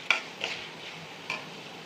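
Tamarind fried in oil for mint chutney, a quiet sizzle under a few sharp spoon taps and scrapes against the pan.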